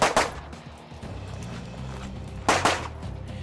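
Pistol shots on a tight course of fire at a shooting competition stage, two sharp bursts of close reports separated by a stretch of lower background noise.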